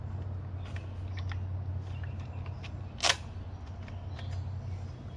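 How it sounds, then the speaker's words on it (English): A PVC railing cover piece snaps into place over the screws on a railing during installation, giving one sharp, brief click near the middle against a steady low background hum. "This piece just snaps right in."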